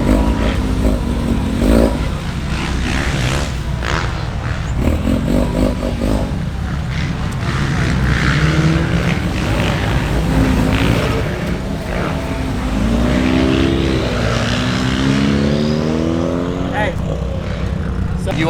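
A drift car engine drones and revs at Orlando Speed World, a steady loud roar with rising and falling pitch throughout, while people talk over it.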